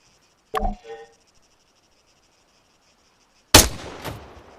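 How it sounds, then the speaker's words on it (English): Rifle shots from a sergeant firing downrange in Arma III: two sharp, loud cracks a few seconds apart, each with a short echoing tail, over a quiet background with faint insect chirps. "When you're ready, put some rounds down range."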